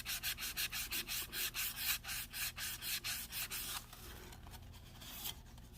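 Sandpaper rubbed by hand over the body of a 1969 Dodge Charger R/T model in quick, rhythmic back-and-forth strokes, close and clear, ending in a softer, steadier scrubbing with no talk.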